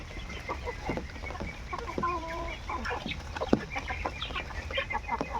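Chickens cluck and squawk on a farm, several birds calling in short irregular bursts, fairly close, over a steady low background.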